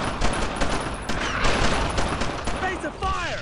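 Sustained dense gunfire from a squad laying down suppressing fire in the Brothers in Arms World War II game, continuous bursts and shots throughout with shouted commands mixed in.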